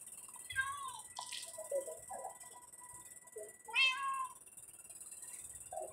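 Several cats in the video game Minecraft Story Mode meow in short, separate calls over a steady hum of background music and ambience, with no talking.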